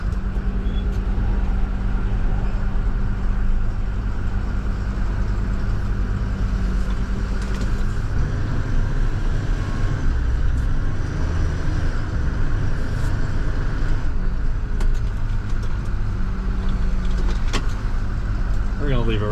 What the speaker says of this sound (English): let's get this truck out of the way here